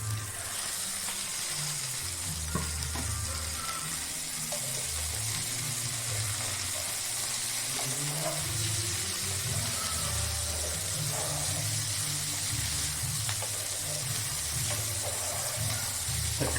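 Tomato pieces sizzle and fry in a pan alongside carrot while chicken liver dish is cooked, a soft continuous crackle with occasional stirring clinks, steady and close throughout.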